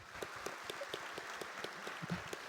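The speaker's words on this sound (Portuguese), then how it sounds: "de uma salva de palmas para todos, por favor" An audience at a formal evening session in Londrina gives a faint, distant round of clapping, with regular, fairly sparse hand claps sounding steadily throughout.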